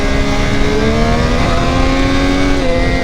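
A Triumph 765R motorcycle accelerates hard in first gear, its loud, close engine holding a strong, steadily climbing whine for a few seconds with no voices.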